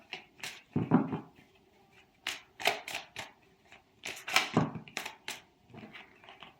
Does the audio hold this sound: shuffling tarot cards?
yes